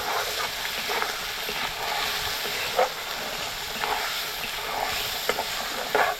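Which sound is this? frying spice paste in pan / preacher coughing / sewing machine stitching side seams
frying spice paste in pan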